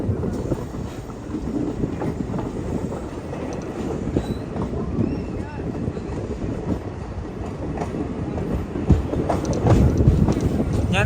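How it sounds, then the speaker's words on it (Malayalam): Train rolling into Qazigund station in Kashmir on the snowy Banihal–Srinagar line, steady rumble of wheels and carriages with rail clatter and occasional squeal, close by and continuous, a few faint voices in the background. "ഗാസിക്കുണ്ട് സ്റ്റേഷനിലേക്ക് ഇതാ ട്രെയിൻ എത്തിയാണ്."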